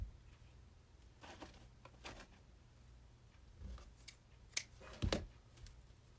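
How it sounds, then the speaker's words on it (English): Scissors snipping pieces for a Santa hat and candy cane craft, a series of short irregular cuts and small handling rustles, close and fairly quiet. "So I'm going to cut a couple of these."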